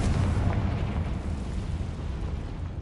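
A Confringo fire spell explodes in Hogwarts Legacy, a deep rumbling blast that keeps roaring and crackling for a few seconds at steady loudness.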